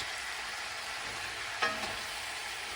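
Cabbage and turkey meat frying in a pan, a steady close sizzle with a brief scrape and clatter of stirring near the middle, no talk.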